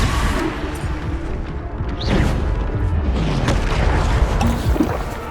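A Bombarda blasting spell in Hogwarts Legacy on PS5 sets off booming explosions and rumbling debris with whooshing spell sounds, dense and continuous throughout.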